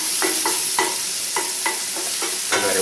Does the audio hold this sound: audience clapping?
no